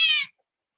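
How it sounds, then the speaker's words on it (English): A single short cat meow, close and clear, cut off abruptly and followed by silence. "that was my cat"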